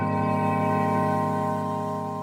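Synth patch with a sub oscillator added beneath it, a held tone with a fuller low fundamental under bright upper harmonics, sustained evenly and fading slightly toward the end.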